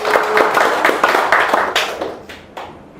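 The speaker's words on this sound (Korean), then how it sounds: "맞다고 생각하면 박수 한번 쳐보세요" A lecture audience claps in a brief burst of rapid, overlapping claps that thin out and fade over about three seconds.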